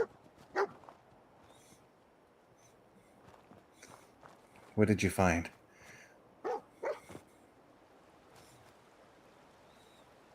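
A dog in Fallout 4 gives a short whimpering bark amid footsteps across the wasteland, then a couple of quieter barks follow, with a voice speaking briefly in between.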